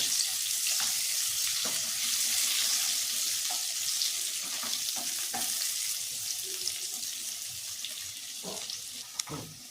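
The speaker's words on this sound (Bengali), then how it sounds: "আলুগুলো আমার কিন্তু ভাজা হয়ে গেছে," Potatoes sizzle and crackle in hot oil in a pan on a gas stove, a steady loud frying hiss with occasional clinks of stirring throughout.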